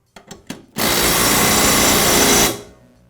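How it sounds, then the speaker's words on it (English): An impact wrench tightens the blade bolt on a Toro lawn mower, first a few short bursts, then a loud, continuous rattling hammer for nearly two seconds before cutting off sharply. "And I'll tighten the bolt with my impact wrench."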